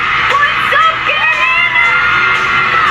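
A large concert crowd at a performance in the Quirino Grandstand cheers loudly, a dense wall of high-pitched whoops, screams and yells sustained throughout at close range.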